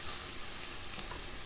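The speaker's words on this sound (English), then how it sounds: "So we're just going to cook these until they wilt a little more." Beet greens wilting as they sauté in a pan give off a brief, even sizzle with a dense continuous hiss.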